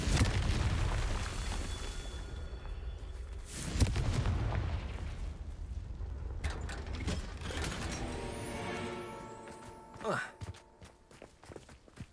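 Fiery spell explosions from a wizarding video game, with a loud burst near the four-second mark and a rising whoosh and blast around ten seconds, over a steady rumbling game ambience and footstep-like movement.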